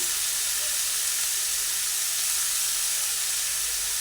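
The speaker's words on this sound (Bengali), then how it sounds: "আবার কিছুক্ষণ ভালোভাবে ভেজে নিচ্ছি নাড়াচাড়া করে ভেজে নিচ্ছি" Cucumber curry frying in a pan with a spoonful of salt just added, giving a constant loud hiss and sizzle of hot oil that holds steady throughout, with no talking.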